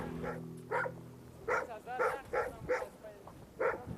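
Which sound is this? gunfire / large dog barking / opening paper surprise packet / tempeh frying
large dog barking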